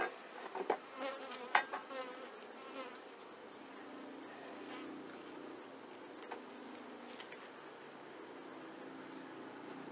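Many honey bees hum in a dense, continuous buzz at an open hive, with a few louder individual passes near the start drifting close and away.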